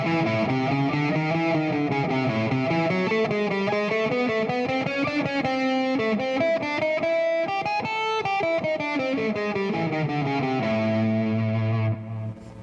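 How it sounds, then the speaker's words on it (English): A guitarist plays a distorted electric guitar phrase, flowing arpeggio notes linked by passing tones in a steady continuous line, closing on a sustained low note. "So I start the phrase with the arpeggio note and I finish the phrase with the arpeggio note, and other notes in between are only passing tones."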